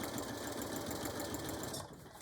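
A sewing machine top-stitches a fabric bag, running in a fast, steady mechanical whir with rapid needle ticking, close and continuous before easing off briefly near the end.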